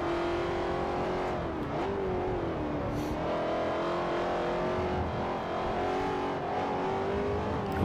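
A race car engine in Forza Motorsport 4 during a two-lap European sedan race holds a steady, loud drone with harmonic whine, rising and dipping as the driver works through gears and corners. No talk is heard.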